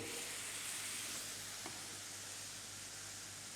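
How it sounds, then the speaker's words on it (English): Hot stock poured into a very hot paella pan, giving a steady broadband sizzle and hiss of steam that holds evenly at moderate level throughout. "I'm adding 2 ladles of stock per ladle of rice."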